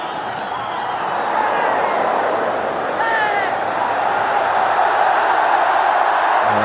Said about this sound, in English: Well, it's a very noisy crowd.